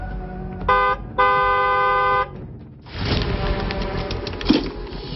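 A car horn blares twice, a short honk then a longer sustained blast, followed by noisy traffic rumble and clatter.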